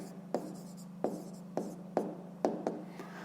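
A pen writes answers by hand, short scratchy strokes in a loose rhythm, six or so distinct marks close up with a faint steady hum underneath.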